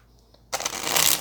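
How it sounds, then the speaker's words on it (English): Tarot cards are shuffled by hand in a brief, crisp riffle that starts abruptly and runs for under a second, close and fairly loud, with no talking. "Let's get one more shuffle for Pisces"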